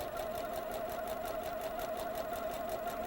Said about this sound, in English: it's going to be stitched at 3/8 of an inch away